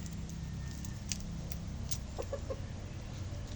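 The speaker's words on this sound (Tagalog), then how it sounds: "Ayan, pinakawalan ko na yung dalawang inahin." Shamo hens clucking in a backyard after being let loose, soft scattered clucks and a few brief calls over steady low outdoor rumble and background noise, with no talking.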